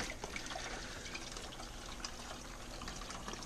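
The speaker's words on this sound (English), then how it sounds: "hopefully that'll stay in the bucket. But boy, it really drains quickly." Water drains from aquarium substrate into a bucket with a steady, faint trickling and splashing that runs continuously throughout, with no talking.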